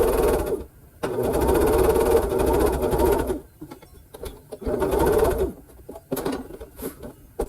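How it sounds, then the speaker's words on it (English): A domestic sewing machine runs a quarter-inch seam on a Christmas sampler mosaic quilt block, loud and close, in several steady whirring bursts separated by short pauses. "now I'm just going to do my 1/4 inch seam here"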